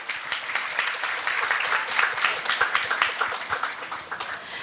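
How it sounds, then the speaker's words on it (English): An audience at a foreign policy conference applauds after a panel session, sustained crowd clapping that swells and ebbs slightly, with no voices over it. "Please give a round of applause."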